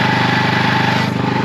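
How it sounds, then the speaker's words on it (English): A 2006 Polaris Outlaw ATV engine idles steadily up close after a fuel petcock replacement, with a loud, even, rapid pulsing drone throughout. "And it's idling."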